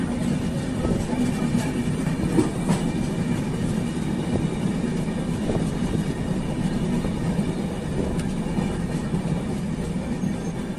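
Gitanjali Express passenger train running steadily on the tracks near Jamshedpur, a continuous loud rumble of wheels and carriages with faint clatter throughout.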